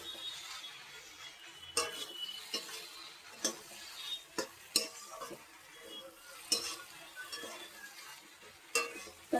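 Pasta being stirred in a pan at home, with quiet scraping and sharp utensil clicks against the metal at irregular intervals over a low background sizzle.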